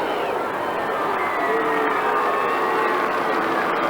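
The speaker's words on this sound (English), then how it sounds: "they're booing the decision" Broad crowd roar from a stadium during an Australian rules football match, Adelaide Crows against Fremantle Dockers in 2000, sustained and fairly loud for the whole stretch, rising slightly midway, with a booing tone and no talk over it.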